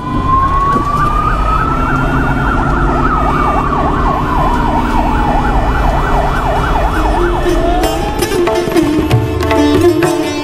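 An ambulance siren sounds loud and close, its tone rising and falling in a repeated wail that shifts pitch partway through, over low traffic rumble.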